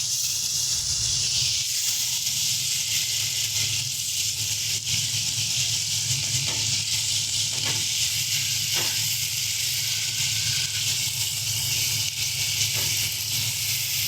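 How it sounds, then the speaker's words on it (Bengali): Prawns frying in hot oil in a kadai, a steady loud hissing sizzle that runs unbroken throughout, close and alone without talk. "সুন্দর করে মাছটাকে ভেজে নেব।"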